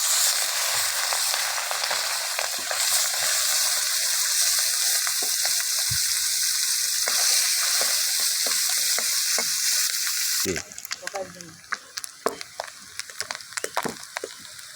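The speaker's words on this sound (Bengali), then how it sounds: "আমার তেলটা গরম হয়ে গেছে, এবার দিয়ে দেবো মাছ।" Small mola fish fry in hot mustard oil in a wok over a strongly burning stove. A loud, dense sizzle holds steady, then drops suddenly to softer, scattered crackles, with a few utensil knocks and scrapes.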